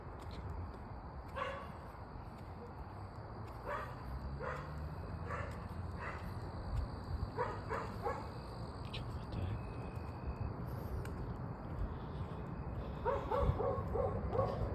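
Two dogs bark in short, scattered bursts with a few whimpers and yips, fairly close, over a low steady background rumble and no talking.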